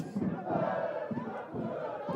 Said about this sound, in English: a very healthy crowd inside the Vasa Stadion